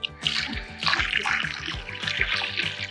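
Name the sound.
dumping old squid bait water out of a bucket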